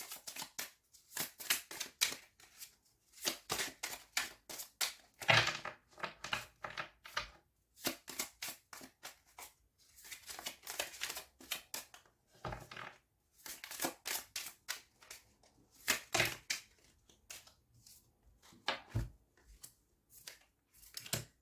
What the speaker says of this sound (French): Je vais rajouter des cartes avec petits cristaux.